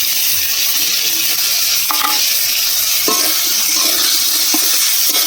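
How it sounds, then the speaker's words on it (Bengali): Potatoes stirred and fried in hot ghee for white ghugni, a steady close sizzle with a few sharp utensil scrapes against the pan and no talk. "এবার আলুটা ভালো করে নেড়ে চেড়ে ভেজে নেব।"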